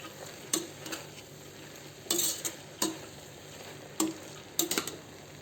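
Spices being stirred into banana stem kurma in a pan, with soft sizzling underneath and several sharp spoon scrapes and clinks against the vessel at irregular intervals, no talking.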